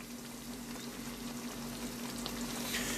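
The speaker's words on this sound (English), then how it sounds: "stirring all the new ingredients in, adding it to the sauce" Chicken, bacon and ground ginger frying in a pan with sauce while being stirred, giving a steady, even sizzle with faint scraping throughout.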